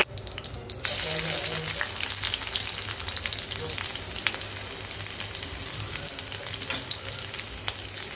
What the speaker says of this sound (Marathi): सर्वप्रथम कढईत आपल्याला तेल गरम करून कढीपत्ता, जिरे, मोहरी आणि लसूण परतून घ्यायचा आहे.